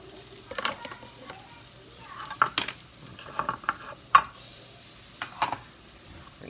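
Butter sizzling in a pan with bacon grease while breakfast burritos cook, heard as a soft, quiet sizzle broken by scattered clinks and scrapes of a utensil against the pan.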